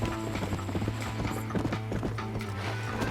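Horse hooves clip-clop in the video game Red Dead Redemption, a steady rhythmic trot of hard, repeated hoofbeats at moderate distance, with faint mechanical game sounds in the background.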